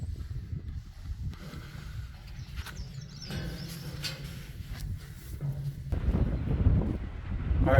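Wind gusts across an open mountain trail on Vermont's Long Trail, a low, blustery rumble against the microphone that rises and falls steadily and builds toward the end, with a faint bird call here and there.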